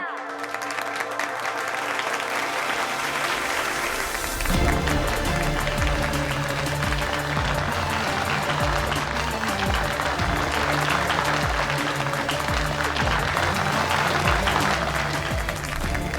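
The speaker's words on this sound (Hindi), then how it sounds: "सरदारनी कमलदीप कौर सिद्धू जी के लिए तालियां।" An audience claps loudly and continuously for a guest invited on stage to present a student-of-the-year trophy, dense sustained applause that swells after a brief quieter start.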